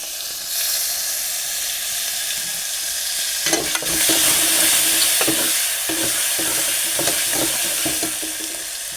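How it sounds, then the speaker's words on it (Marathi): Garlic paste with chillies frying in a pan, a loud, close, steady sizzle, with clattering stirring strokes joining midway in a loose repeated rhythm. "आणि लसूण पेस्ट टाकूया अंदाजे एक हात चमचा जरा ढवळूया"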